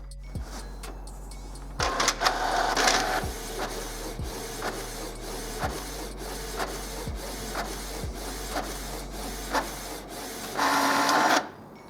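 A Canon Pixma MG2950 inkjet printer running a nozzle check page, steady mechanical whirring and chugging with evenly spaced clicks of the print head carriage, louder feed bursts near the start and end, close and alone.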